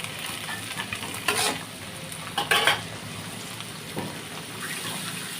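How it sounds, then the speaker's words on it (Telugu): Chopped greens and onions cook in a pan, a steady sizzle under a few sharp scrapes and spoon-on-metal stirring strokes, close-up and without any speech. "ఇలా ఆకుకూర ఉల్లిపాయలు అనేది బాగా మగ్గనివ్వాలన్నమాట."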